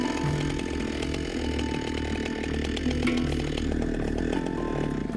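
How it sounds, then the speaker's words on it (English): A chainsaw cuts through an elephant's tusk outdoors, its engine droning loud and steady for the whole stretch with small shifts in pitch as it bites. "Muthega uses his chainsaw to cut the other tusk"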